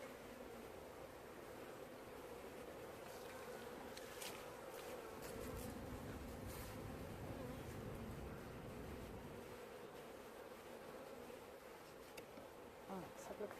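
Honeybees buzzing right in front of a beehive, a dense continuous hum of many wings with individual bees passing close by now and then, steady and fairly quiet.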